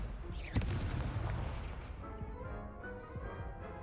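A fire spell cast in the Hogwarts Legacy video game, opening with a loud, sharp burst followed by a roaring, crackling rush of flame that fades gradually over a few seconds.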